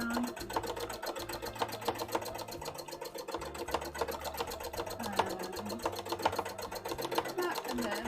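A sewing machine runs steadily, stitching embroidery onto a cosplay dress, its rapid mechanical patter continuing throughout beneath a person talking.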